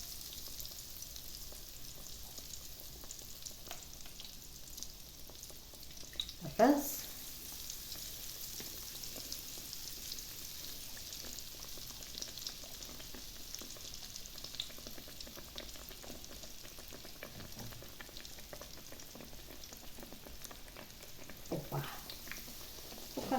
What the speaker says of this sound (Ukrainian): вам буде видно, як смажиться